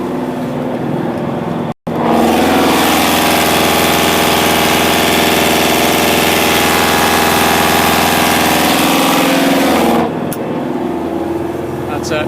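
A Yanmar 4JHE diesel engine in a 1991 25-foot trawler runs steadily at 2,700 RPM, a loud, close, continuous drone with strong harmonic hum that starts abruptly after a brief gap and holds for about eight seconds.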